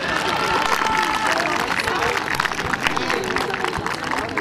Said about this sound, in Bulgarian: Още веднъж аплодисменти за участниците!